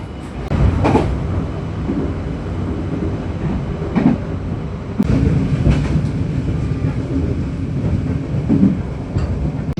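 A passing Kutojaya train on the crossing track, heard from inside a carriage as a loud, continuous rumble with rattling clatter and a few sharp knocks.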